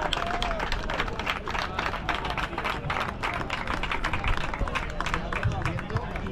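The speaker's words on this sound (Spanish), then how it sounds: "Ahí está el aplauso." Spectators at a mountain bike race finish applauding a rider who pushed her bike the last five kilometres, brisk continuous clapping under a voice over a loudspeaker and crowd chatter.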